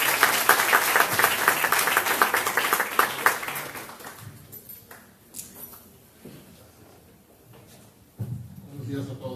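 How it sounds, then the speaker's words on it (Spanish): A conference audience applauds to welcome a speaker, a dense roomful of clapping that is loud for about four seconds, then thins out and fades into quiet room noise and shuffling. "Les pido un aplauso de bienvenida."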